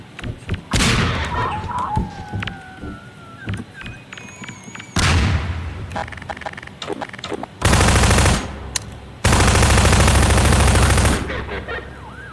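Video game gunfire: loud bursts of rapid automatic fire and single booming shots come in separate volleys, with electronic game sounds and a voice in between.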